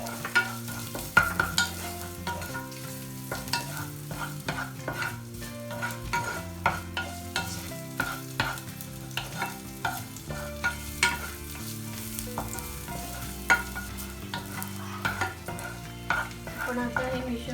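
Curry leaves, cut garlic cloves, green chillies and a piece of ginger spluttering in oil for Maharashtrian kadhi, a busy crackle with repeated spatula strokes and clinks over steady music.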